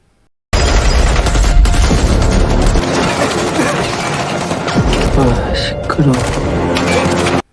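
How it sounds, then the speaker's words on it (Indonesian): Rapid bursts of gunfire crackle loudly and continuously in a Korean action film, mixed with booms and clattering crashes in a dense, chaotic soundtrack. "Dan dia mendapatkan tembakan beruntun"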